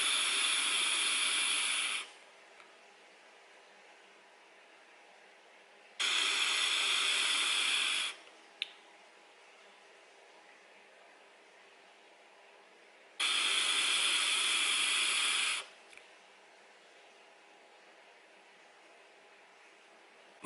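Three long bursts of hissing vapour come from an Eleaf Ello Mini atomizer run with full VG liquid and the airflow wide open. Each airy rush lasts about two seconds and is followed by near silence.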